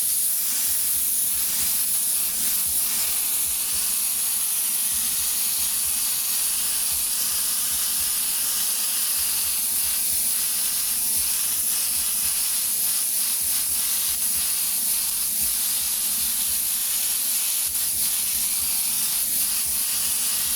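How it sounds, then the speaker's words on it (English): An airbrush lays a wide spray of blue paint over a white base coat, a steady, continuous airy hiss held for a long stretch with only slight pulsing breaks, close and even. "we're going to go right over top with a nice wide spray over top of this white"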